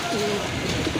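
A female racing pigeon coos in soft, low murmurs close to the listener, with a faint hum behind it.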